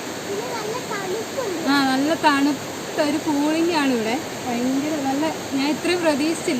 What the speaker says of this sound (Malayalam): സൈഡിൽ കൂടെ വെള്ളം ഒഴുകുന്ന സൗണ്ടൊക്കെ നിങ്ങൾക്ക് കേൾക്കാം